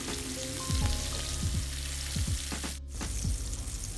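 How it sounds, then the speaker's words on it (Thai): Flour-coated squid deep-frying in hot oil over medium heat, a continuous close sizzle and bubbling with a low steady hum beneath and a brief sharp burst near the end. "พอน้ำมันเริ่มร้อน เราก็ใส่ปลาหมึกลงไปค่ะปลาหมึกที่เราคลุกแป้งไว้"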